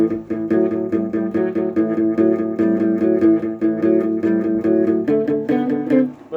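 An acoustic guitar strums a steady rock and roll rhythm pattern with an added fifth note, a bright repeating chord figure played close and clear without any talking.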